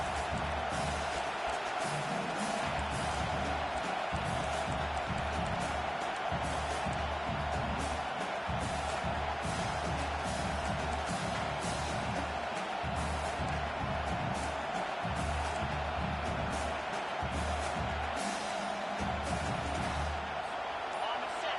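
A college football stadium crowd roars without a break for more than twenty seconds during a fourth-down play. The wash of noise stays dense and constant while an announcer talks over it.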